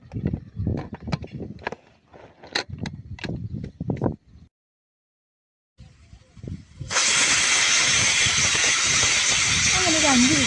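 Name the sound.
pressure cooker whistling steam while cooking chicken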